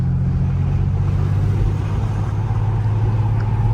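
Infiniti G37 pulling away, heard from inside the cabin as a loud, steady low engine and road drone that holds evenly throughout, with no talking.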